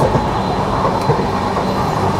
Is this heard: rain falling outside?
no